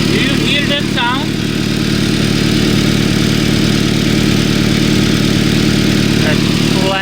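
A Toyota Tacoma engine with a leaking exhaust manifold idles loudly and up close, a steady rapid rattling, ticking throb throughout, with a voice briefly speaking over it near the start.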